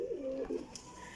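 Rare, valuable Rampuri pigeons give a soft, low cooing call, close by and clear, with a brief faint higher chirp near the end.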